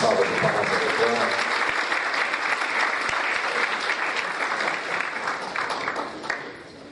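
An audience at a talk on pension deficit gives the guest doctor sustained, loud applause, a dense wash of many hands clapping that tapers off slightly near the end.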